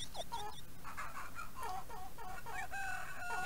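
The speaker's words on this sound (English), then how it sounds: "The clucking carries on anyway." Chickens on a farm in The Sims Bustin' Out cluck repeatedly in short, choppy bursts, faint and close, over a soft game background.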